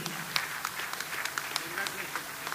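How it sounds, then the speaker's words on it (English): An audience at a chamber of commerce business meet claps for the FKCCI President, fairly quiet and slightly distant, with a scattering of distinct hand claps and a murmur of voices beneath. "a huge round of applause for Mr. Sudhakar Shetty"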